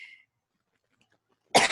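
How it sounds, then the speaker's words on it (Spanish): A single hoarse cough bursts out close to a microphone after a stretch of near silence, preceded by a faint tail of sound at the start. "Saben que tengo mucha tos."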